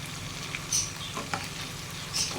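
Kingfish pieces frying in a pan of oil over a low flame, a soft continuous sizzle with faint crackles and a few small pops, steady and close.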